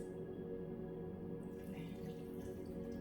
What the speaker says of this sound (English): When you pour it out the box like this, you get less splatter and more stuff.